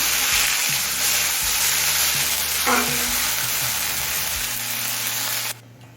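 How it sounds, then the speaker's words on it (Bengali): Drumstick (sajne) leaves frying in a pan give a continuous, loud, close sizzle with faint stirring underneath, cutting off sharply near the end. "শাকটা দিয়ে মিনিট দিয়ে ভেজে নিলাম"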